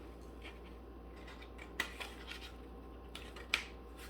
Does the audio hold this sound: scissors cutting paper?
yes